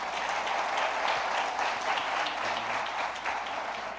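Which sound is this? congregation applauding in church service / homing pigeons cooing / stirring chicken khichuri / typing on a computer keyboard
congregation applauding in church service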